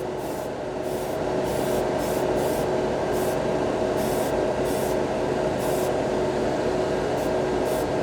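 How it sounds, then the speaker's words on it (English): Airbrush spraying Mr. Hobby acrylic paint onto a plastic spoon, a continuous close airy hiss under a steady compressor hum, with brief puffs of stronger spray as the trigger is worked. "Performs really well with this airbrush. It atomizes it really nice."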